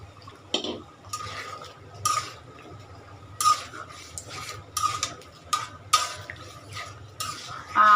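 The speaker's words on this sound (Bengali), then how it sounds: "তো আমি ধুন্দুল তরকারিটা একটু নাড়া দিয়ে দিতেছি" A utensil stirs sponge gourd curry with fried fish in a pot, making repeated scraping and clinking strokes against the metal at an uneven rhythm, close and fairly clear, with a faint sizzle underneath.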